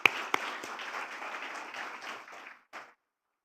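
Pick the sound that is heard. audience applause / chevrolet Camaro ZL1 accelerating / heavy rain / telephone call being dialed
audience applause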